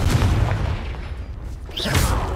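A Confringo spell explosion in the Hogwarts Legacy video game hits as a deep booming blast, fades into a softer rumble, then swells again with a second bright, crackling burst near the end.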